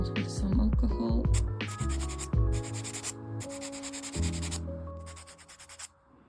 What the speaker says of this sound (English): So I'm just gonna clean off my nails with some alcohol.